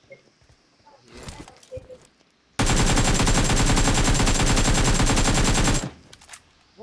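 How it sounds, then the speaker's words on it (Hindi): Loud, sustained burst of automatic gunfire in a battle royale video game, a rapid unbroken stream of shots lasting about three seconds, framed by quieter scattered game sounds before and after. "बाजी एक बार चलाना बिना हिलाए गन"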